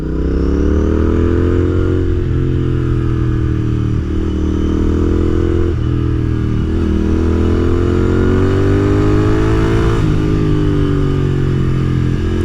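A Royal Enfield motorcycle being built for racing drones loud and steady nearby while it downshifts through a couple of gears, its engine pitch stepping and surging at each shift over roughly twelve seconds.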